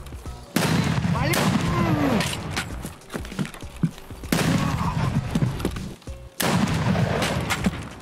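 Automatic rifle fire in Escape From Tarkov erupts in three loud, dense bursts, each cut off sharply, with quieter gaps of scattered shots and movement noise between them. A voice is heard faintly in the background.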